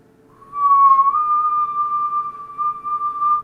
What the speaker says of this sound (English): Watch this whistle.